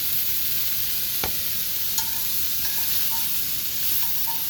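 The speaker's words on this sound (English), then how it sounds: "there's nothing like that satisfying sizzle" Steady crackling sizzle of andouille dirty rice frying in a pan, constant and close, with a few faint clicks and scrapes.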